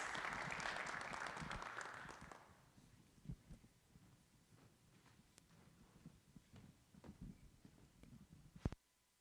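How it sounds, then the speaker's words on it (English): Applause from the audience at a city council meeting after an award presentation, a dense burst of clapping for the first couple of seconds that fades into scattered claps and room noise. "another round of applause"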